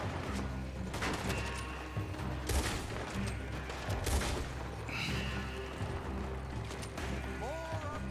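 Gunfire in the Red Dead Redemption 2 video game during a shootout, with repeated rifle and pistol shots cracking in rapid bursts over a continuous background din, mixed with game voices and a player talking.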